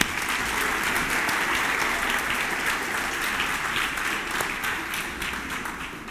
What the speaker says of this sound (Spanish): denle un aplauso a Cristóbal